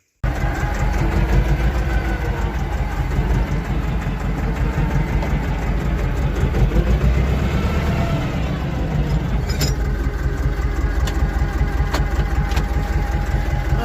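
A Farm-mot 250D tractor with a snow plow attached runs steadily and loud in a winter yard, its diesel engine chugging evenly at close range throughout, with no talking.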